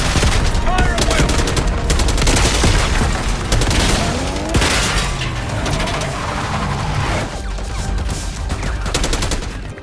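Dense gunfire and explosive booms fill a Call of Duty: Black Ops 6 firefight at a palace gate, with bursts and shots overlapping loudly and continuously throughout, with no clear gaps.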